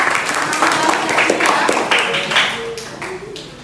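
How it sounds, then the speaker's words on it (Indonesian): A sixth-grade classroom group claps together in a steady burst of applause lasting a few seconds, with light chatter mixed in. "tepuk tangan teman-teman"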